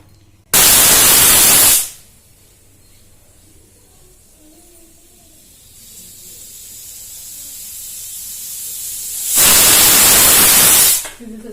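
Pressure cooker whistling on the stove while sweet rice (paramannam) cooks, two loud sharp hissing blasts separated by quieter steam and kitchen noise.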